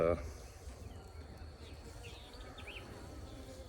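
Honeybees buzz in a faint, continuous drone around an opened hive, steady throughout, with brief noise from someone handling the hive at the start.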